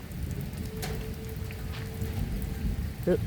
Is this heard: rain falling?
yes